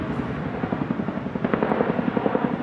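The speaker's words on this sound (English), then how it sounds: "That's an Army Chinook helicopter." An Army Chinook helicopter flies low overhead with a loud, continuous rotor throb. Its rapid rhythmic chopping stays steady throughout, with no voices.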